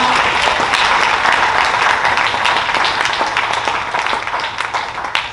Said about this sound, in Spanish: Den un fuerte aplauso al Señor en esta hora.